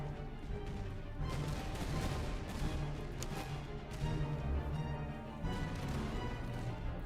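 In a Napoleonic strategy video game, French, Russian, Austrian and Prussian troops fire muskets and canister in a dense, continuous battle din of crackling volleys and heavy thuds.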